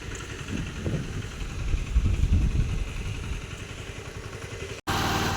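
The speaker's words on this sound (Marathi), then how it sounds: "आता ट्रॅक्टर आणतो." A farm tractor engine runs steadily and fairly close on a flood-hit field in Naringre village, Devgad, a low, continuous chugging rumble that cuts out for a split second near the end before resuming.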